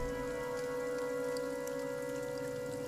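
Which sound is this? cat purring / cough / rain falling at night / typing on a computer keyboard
rain falling at night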